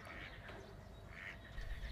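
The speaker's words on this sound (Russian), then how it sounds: "Так, поснимаем еще уточек." Ducks quack in a park, a few soft calls scattered over steady outdoor background noise, fairly faint and heard from a short distance.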